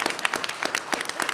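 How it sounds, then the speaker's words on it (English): At a school board meeting, the audience gives a round of applause, a brief stretch of soft, uneven hand clapping from a small crowd heard at some distance in the meeting room. "give him a round of applause"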